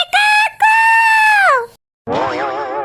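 A person loudly imitates a rooster crowing at a banana-leaf parotta stall: two drawn-out, strained crowing calls close to the mic, the second after a brief silence, wavering and shrill.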